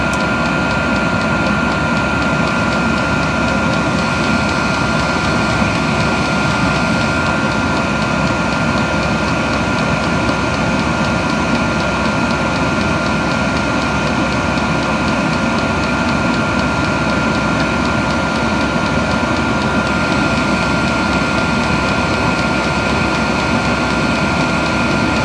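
The electric motors of a water heater with a waste-heat exchanger, including a tank motor and drip pump motor, run steadily: a loud, even mechanical hum and whir that continues unbroken without talk.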